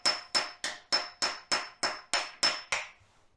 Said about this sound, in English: So that's how I put core plugs in.